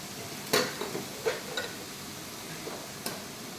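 Grated potato is sautéed and stirred in a pan, giving a soft low sizzle broken by a few sharp spoon clicks and scrapes against the metal, close and quiet.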